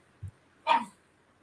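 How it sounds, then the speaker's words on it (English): A dog gives a single short bark, fairly close and moderately loud, preceded by a faint low woof, with quiet background in between. "And my dog's talking."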